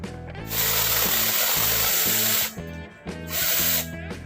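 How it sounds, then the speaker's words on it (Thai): A mini one-hand 4-inch cordless electric chainsaw cuts into a small tree. Its high buzzing whine is loud and close, runs in one long burst, drops briefly, then starts again. "จะมาทดลองใช้ เลื่อยตัวนี้นะคะ ว่าประกอบเสร็จแล้วเนี่ย จะ ใช้ได้จริงหรือเปล่า"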